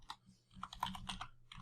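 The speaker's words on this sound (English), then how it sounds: "So for this, we'll just type in" Quick keystrokes tap on a computer keyboard in a short irregular run, close and faint.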